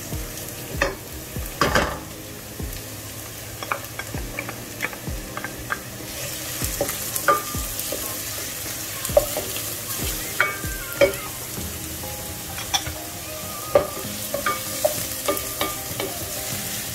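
Browning onions with freshly added carrots fry in a pan for a mung bean stew, a continuous sizzle under frequent clattering stirs and utensil taps against the pan.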